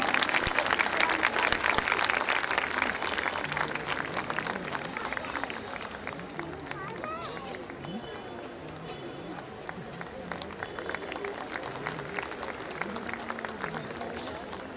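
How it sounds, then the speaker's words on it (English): Audience at a school annual day prize distribution ceremony claps for a top-ranked student, a dense, steady round of applause that is loudest at the start and gradually thins, with faint voices beneath. "Please give her a huge round of applause."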